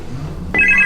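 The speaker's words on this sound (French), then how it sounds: "Téléphone!" A telephone starts ringing partway through, a bright electronic trill that cuts in sharply after a quiet stretch of low background noise and repeats in quick pulses to the end.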